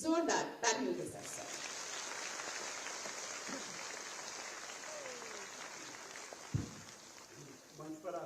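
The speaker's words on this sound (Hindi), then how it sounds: "आयुक्त ग्राम विकास उत्तर प्रदेश श्री GS प्रियदर्शी को जोरदार तालियों के साथ" Crowd applause at a large public government event in Sonbhadra, Uttar Pradesh, a steady dense wash of clapping from a big outdoor audience that swells and sustains throughout, with a few louder bursts and a voice near the start and end.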